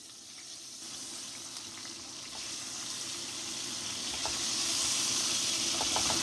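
Eggs dropped one at a time into a hot pan of dal with browned onion and garlic, giving a continuous close sizzle that grows louder and fuller across the clip, with a few faint clicks and no talking.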